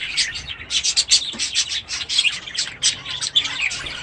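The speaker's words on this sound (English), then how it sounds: "And this is some chicks from one nest, one of the only 2 that has chicks." Budgie chicks in a breeding nest, a rapid, close run of shrill chirps and squawks in overlapping bursts, with a brief rubbing rustle, and no speech.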